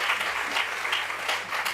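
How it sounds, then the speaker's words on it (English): Applause from a town hall audience at a KwaZulu-Natal G20 community engagement event as panelists leave the stage, a steady mid-distance patter of many hands swelling and easing slightly over a short stretch, with no talking. "Please give them another round of applause as they descend from stage."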